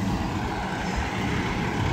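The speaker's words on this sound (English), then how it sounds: "The emulsion tanker being pushed by the water truck, and coupled to the water truck being pushed by the CIR machine." Heavy diesel rumble from a cold in-place road recycling train, an emulsion tanker coupled to a water truck and pushed along the road shoulder, a steady loud engine drone with no breaks.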